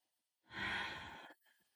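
A single deep yoga breath, one long audible exhale lasting about a second, close and fairly soft, then quiet.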